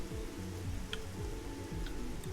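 Rain falling in the game Dig or Die, a steady soft patter with a few faint ticks over a continuous electronic game background, no talk.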